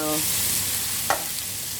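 Fish frying in hot oil for brown stew fish, a steady close sizzle running throughout with a brief brighter burst of spitting midway, no voices.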